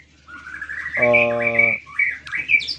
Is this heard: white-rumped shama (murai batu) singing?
yes